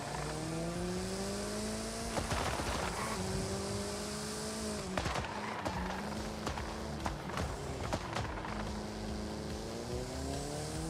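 A car revs and shifts through gears in Forza Horizon 5, with rising and falling engine tones broken by sharp crackling exhaust backfire pops in the middle of the run.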